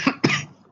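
Two quick coughs from a student in a classroom during an evening lesson, close and clear, with a short gap between them and nothing else around them.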